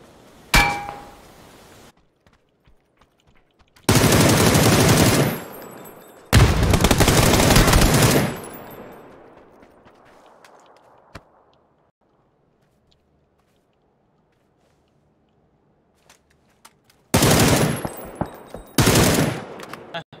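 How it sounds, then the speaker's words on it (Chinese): Bursts of rapid automatic gunfire from a video game shooter, several loud sustained volleys separated by quiet gaps, with a few sharp single shots and faint background speech. "刚好一起开枪，一起开的枪。"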